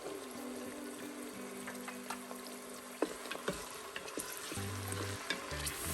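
Chopped onions with a little salt sizzling in hot oil inside an Instant Pot, a soft continuous fry with occasional stirring clicks and scrapes, heard alone at close range.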